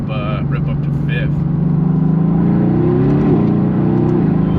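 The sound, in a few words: car engine accelerating uphill, shifting up to fifth gear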